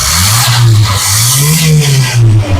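A 1986 Nissan Sunny engine runs after a carburetor adjustment, a loud close rumble whose pitch rises and falls in smooth surges as it revs.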